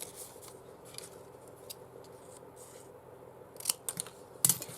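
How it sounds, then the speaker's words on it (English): Scissors snip through paper while someone cuts a little paper dress shape in half, giving quiet scattered blade clicks that build to a few sharper snips near the end, with no talk. "you can just cut that in half"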